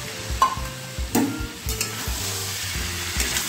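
Shrimp go into a pan of yardlong beans and potatoes already frying, giving a bright sizzle broken by several knocks and scrapes of stirring, with no voices.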